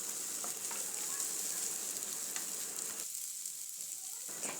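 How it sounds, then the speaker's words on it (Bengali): Onions frying in oil in a pan over a medium-low gas flame, a steady close sizzle with faint crackles and light stirring, briefly quieter near the end. "গ্যাসের ফ্লেম মিডিয়াম টু লোতে রেখে পেঁয়াজগুলোকে ভেজে নিচ্ছি।"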